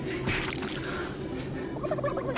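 A turkey gobbles in a PS4 video game, a rough, warbling call heard over continuous game background noise, with no speech.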